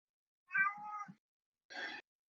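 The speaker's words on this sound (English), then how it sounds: "I heard just cat meowing" A cat meows twice in a quiet room, first a longer wavering call and then a shorter, sharper one after a brief pause.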